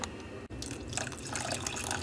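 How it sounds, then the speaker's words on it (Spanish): Water poured into a pot of simmering black beans in a home kitchen: a steady, fairly quiet splashing stream that briefly cuts out, then resumes with bubbly trickling. "Y ahora le voy a agregar un poco de agua para ponerlo a servir."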